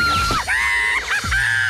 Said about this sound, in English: Why are we screaming?